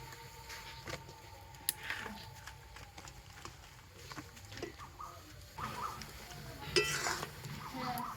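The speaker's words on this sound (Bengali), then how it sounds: "আর গুড়ের মধ্যে আমগুলোকে এইভাবে একটু মিশিয়ে নেব।" Raw mango pieces are stirred into thickened jaggery in a pan, making soft scraping and occasional light clinks of a utensil against the pan, close by and fairly quiet.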